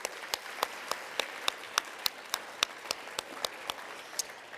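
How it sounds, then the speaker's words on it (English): Audience at a youth soccer awards gala giving a round of applause, heard as sparse, sharp individual claps in a fairly regular rhythm over a soft room murmur. "So everyone give yourselves a round of applause"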